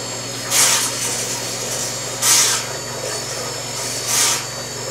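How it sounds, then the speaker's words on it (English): A reef vacuum pump for an aquarium runs with a steady low mechanical hum, broken by three loud hissing, sucking bursts spaced about two seconds apart. "reef vacuum pumps can be ran dry and definitely won't hurt them any."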